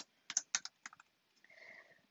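Computer keyboard typing, a short burst of crisp, close key clicks in quick uneven succession followed by a faint softer tail, with no voices.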